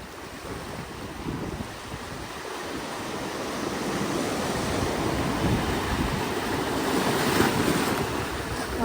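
Ocean waves rolling onto a beach in Lisbon, Portugal, a steady roaring wash of surf with swelling rushes and wind buffeting the microphone throughout, no voices.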